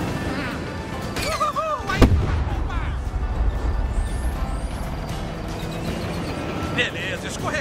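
Rapid-fire shooting in a Cars racing video game, with a sharp loud shot burst standing out over continuous engine and game noise, while a voice talks over the action.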